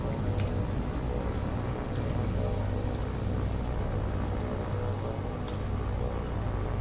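Steady rain pours in the naval combat game War on the Sea, a dense continuous hiss of falling drops at even loudness throughout, with no talking.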